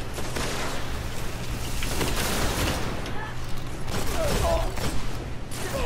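Gunfire in Destiny: Rise of Iron, a steady stream of shots and impacts over constant game noise and a low hum, with some mechanical clicks and faint voices.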